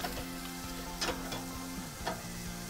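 Stuffed beef rolls sizzle steadily on a barbecue grill as a marinade bubbles, with a continuous fry-like hiss and a few sharp crackling pops scattered through it, close and moderately loud.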